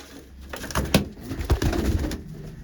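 Pigeons coo in soft, repeated low throaty calls, fairly close, with a few louder bursts amid faint background rustle.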